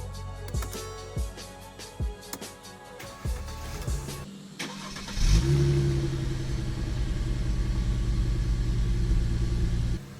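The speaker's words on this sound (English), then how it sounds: "Turn the key to start the ignition." A 2011 Mercedes C300 4Matic, under repair for its rear brake vacuum pump, gives a series of sharp clicks and brief cranking before its engine catches halfway through. It then settles into a loud, steady idle rumble with no talking.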